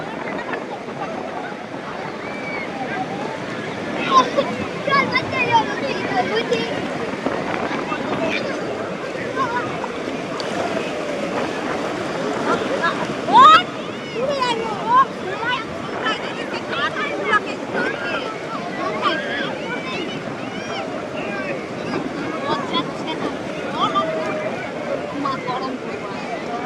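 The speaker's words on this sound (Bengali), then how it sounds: "কালকে ঢেউ খেতে পাওনি আজকে ঢেউ খাও" Sea waves wash and surge around a boat off the beach at Digha, a steady broadband roar with gusty wind buffeting and scattered splashes, while people's voices sound throughout.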